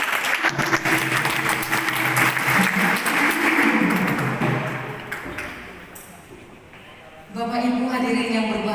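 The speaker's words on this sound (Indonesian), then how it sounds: "Kita beri tepuk tangan sekali lagi." Applause fills a hall at the installation ceremony of a Pemuda Batak Bersatu branch board in Sanggau, dense clapping that fades after several seconds before a voice over loudspeakers resumes.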